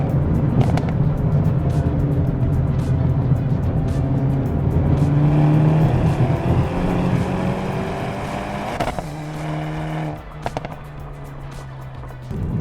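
A tuned Hyundai Elantra N with a turbocharged engine revs hard and accelerates through several gears, the engine note climbing and dropping at each shift, loud and close with no talking.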